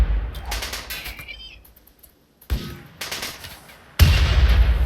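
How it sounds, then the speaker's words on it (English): Gunfire in the RimWorld video game, sharp bursts of rapid shots in separate volleys with quiet gaps between, the last volley loudest and most sustained. "It's falling for the bait. It's shooting at Siba"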